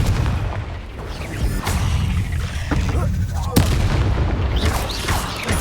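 Explosive Confringo spell blasts go off in Hogwarts Legacy combat, with repeated booming impacts and sharp cracks over a dense rumble of battle effects, one especially strong hit standing out midway, while a voice speaks intermittently.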